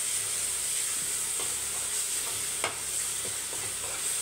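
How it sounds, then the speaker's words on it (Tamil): Steady soft sizzle from a pan of meal maker gravy with coriander and mint being stirred, a low continuous frying hiss broken by a few faint scrapes and taps. "இப்போ இந்த அளவுக்கு ட்ரை ஆனவுடனே கொத்தமல்லியும் புதினா சேர்த்து நல்லா மிக்ஸ் பண்ணிக்கோங்க"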